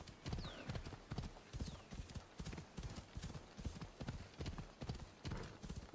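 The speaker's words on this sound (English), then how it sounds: "I'm riding the horse, I'm getting close." Horse hooves in Assassin's Creed Odyssey, a rhythmic clip-clop of galloping repeating steadily at close range, with an occasional faint whinny and a voice talking intermittently over it.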